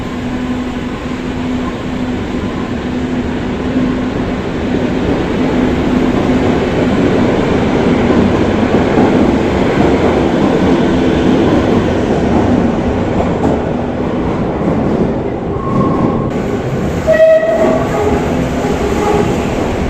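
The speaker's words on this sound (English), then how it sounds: "here is another train. This is the bubble car, or what I call the surf train" A Madrid metro bubble-car train passes close by with a loud, steady rumble and rattling wheels that last the whole stretch, ending with a brief squeal and a sharp clank near the end.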